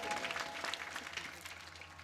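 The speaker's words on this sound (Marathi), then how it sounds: "त्यांच्यासाठी जोरदार टाळ्या वाजा एकदा." Audience at a kirtan claps for the singer, a dense, faint wash of applause that continues evenly for the whole short stretch.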